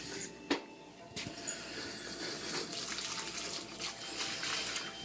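Warm water pours steadily into a mixing bowl for bread dough, a continuous splashing gush with a few small knocks at the start, heard up close without talk.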